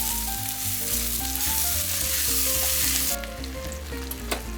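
Beef belly sizzles and crackles loudly as it is stir-fried with chili peppers in a pan, a steady close frying hiss with faint clatters of stirring.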